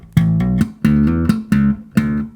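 A slap bass riff with ghost notes: four punchy, close phrases of thumbed and popped bass notes with short muted percussive hits between them, loud and alone with brief gaps.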